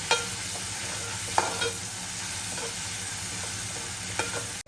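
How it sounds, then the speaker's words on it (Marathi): Masala sautéing in a pan for a pomfret curry, a steady dense sizzle with a few spoon scrapes as it is stirred, close and continuous. "मस्त सुगंध वास येईपर्यंत परतून घ्यायचं आहे"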